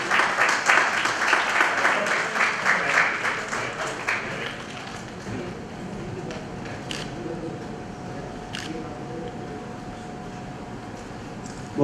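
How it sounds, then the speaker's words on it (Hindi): Audience at a Rotary club event applauds, loud clapping at first that thins out and fades into scattered claps and room noise. "जोरदार तालियों से हम अभिनंदन करें, स्वागत करेंगे इस पहली क्लब बुलेटिन का।"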